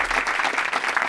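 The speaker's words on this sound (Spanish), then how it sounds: "un aplauso para Siroco, ¡bravo!" Studio audience applause in a Spanish comedy talk show, a steady dense wash of clapping that stays loud and even, with no voices over it.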